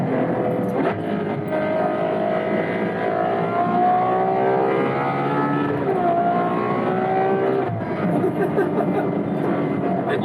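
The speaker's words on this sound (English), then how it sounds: "And you get some of that amazing V12 noise." Ferrari 812 Superfast V12 accelerating hard on a motorway in race mode, a loud, continuous engine roar with rising pitch through the gears and short dips at each upshift.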